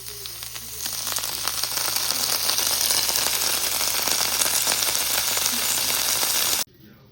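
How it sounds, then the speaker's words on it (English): Chopped cabbage fries in a frying pan with a steady, dense sizzle and crackle, close and fairly loud, that drops away abruptly near the end. "I cut up some cabbage and I'm frying it up in a frying pan to make it soft"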